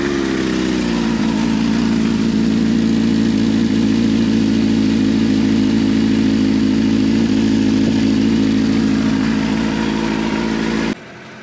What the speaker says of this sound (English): get the bike runned up, heat the engine up a little bit and get that oil warm before I drain it